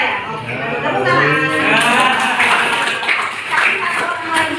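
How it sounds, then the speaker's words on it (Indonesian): Group applause from a classroom crowd, a dense, steady patter of many hands clapping at close range for several seconds, with voices mixed in underneath. "Oke, tepuk tangan"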